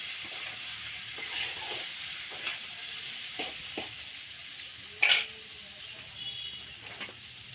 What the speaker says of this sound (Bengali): এই তেলের মধ্যে আমি আলু ভাজা নেব